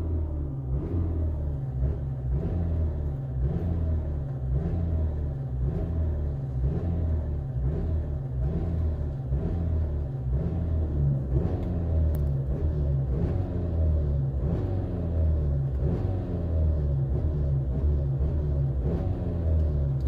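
Hyundai i30 engine held at full throttle, a steady loud rumbling drone with rhythmic pulsing that stays constant throughout, close to the microphone, with no voices.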